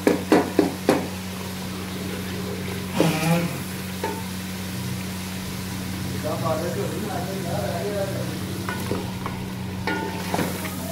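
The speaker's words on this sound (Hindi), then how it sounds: "अब हम इसको अच्छे से भून लेंगे।" Chicken karahi masala of tomato and spices is stir-fried in a pan, with a few sharp utensil scrapes at the start, then a continuous sizzle under a low steady hum and intermittent talking.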